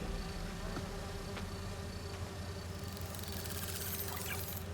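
Bees buzzing around a hive in the Spider-Man 2 video game: a steady, low insect drone with layered wingbeat hum, moderately close and continuous, with faint clicks and no voices.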